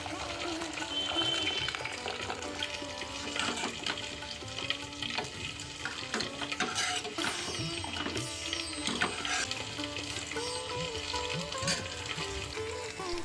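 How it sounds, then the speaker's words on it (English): Drumsticks and onion cubes stir-fried for South Indian sambar on an iron tawa, a steady crackling sizzle with scraping and clattering of the spoon across the pan, running continuously with a voice talking. "Adding drumsticks and onion cubes and stir fry."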